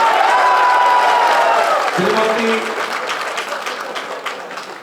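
An audience at a political party joining event in Odisha applauds with steady crowd clapping and some cheering, while someone speaks over it at the start.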